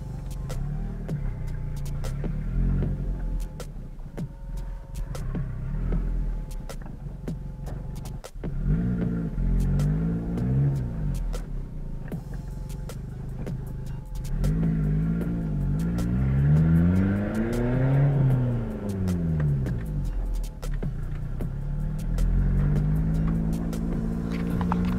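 A Fiat Palio Turbo revs and accelerates repeatedly, its engine note rising and falling in several surging sweeps, close and fairly loud, with sharp ticking and clicks from the turbo setup between pulls.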